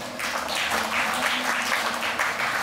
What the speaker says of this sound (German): ihr könnt mir einen Applaus geben, falls ihr die Idee gut fandet